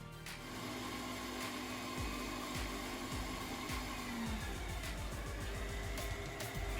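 An electric mixer on medium speed whips cream as cream cheese is added a little at a time, a quiet steady motor whir whose pitch dips and shifts as the beaters work through the mixture.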